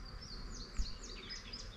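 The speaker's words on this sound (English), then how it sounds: "So then, you can probably hear the buzzing." Bees buzzing around hives on a farm, a soft, wavering high drone with brief rising and falling passes, heard from a short distance with no talking.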